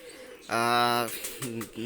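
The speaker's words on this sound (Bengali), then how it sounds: "এক পেয়ার রানিং কবুতর নিয়ে আসলাম" A breeding pair of Pakistani high-flyer pigeons gives one drawn-out, throaty coo lasting about half a second, followed by a shorter call, close and fairly quiet.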